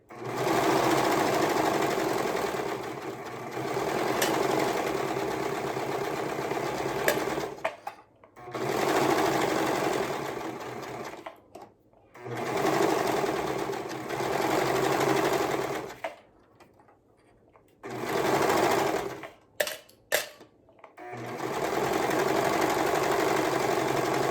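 Sewing machine stitching across color block seams of a garment, running in steady bursts of several seconds separated by short pauses, close and loud with no talking.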